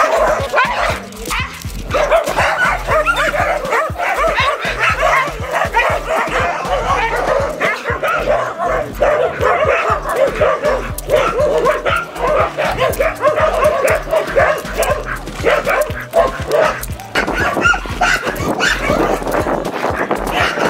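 A Pitbull and a Bull Terrier bark, yip and whimper again and again, loud and close, on a walk, with people talking now and then among the barks.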